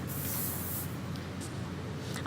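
Hair spray hisses from an aerosol can in one steady burst lasting just under a second during a styling makeover at a K-beauty festival, followed by quieter room ambience with a few faint, brief hissy puffs.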